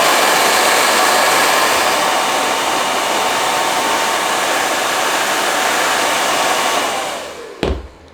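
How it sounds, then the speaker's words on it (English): A blow dryer blasts steadily and loudly up close for about seven seconds while heating a Quest 2 skin wrap, then winds down and is switched off with a click. "use a blow dryer."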